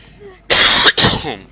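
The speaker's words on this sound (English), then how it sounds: "Sorry about the coughing." Two sharp, loud coughs in quick succession, close up, with a short pause between them.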